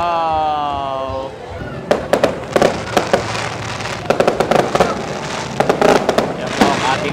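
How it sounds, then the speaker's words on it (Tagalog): Repeated sharp bursts of a Christmas fireworks display crackle and pop in irregular clusters, fairly close and loud, after a brief stretch of excited voices, with people exclaiming over the bangs. "Yan po ang ating fireworks."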